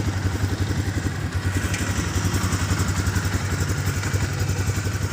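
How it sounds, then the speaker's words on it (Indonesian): A Viar Karya 150L motor tricycle from 2019 idles with a steady, close, even chugging engine rhythm throughout, with light mechanical clatter on top. "Mesin halus"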